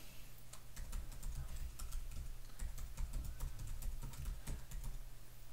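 Fingers type an email address on a computer keyboard, a quiet, close run of irregular key clicks over faint background hum.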